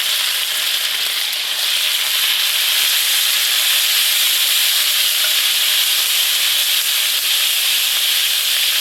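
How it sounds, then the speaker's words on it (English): Seasoning of carrot, onion, sweet pepper and scallion hitting hot coconut oil for Jamaican brown stew fish, a loud continuous hissing sizzle that holds steady throughout with no voices. "we use some coconut oil and the oil is hot. So we're gonna put in the seasoning"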